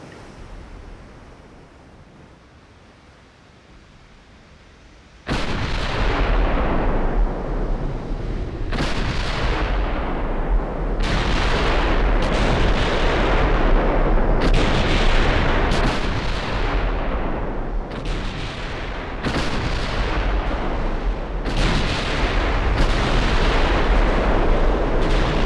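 Warship guns in the Ultimate Admiral Dreadnoughts naval game fire heavy artillery. After a quiet lead-in, about a dozen booming salvos follow one another over a continuous roaring rumble, and no one speaks.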